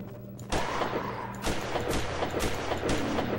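Loud video game gunfire, with several sharp shots and booming blasts at irregular intervals over a rumbling background, close and intense.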